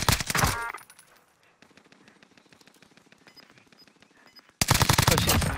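Rapid automatic gunfire bursts from the video game Call of Duty Warzone, loud at the start and end with quieter rattling shots and faint pings in between.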